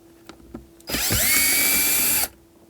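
A cordless power drill spins out Phillips screws from the shift boot of a 1992-1996 Ford F-150, one sustained whining burst of about a second and a half, close and loud, starting abruptly and cutting off cleanly.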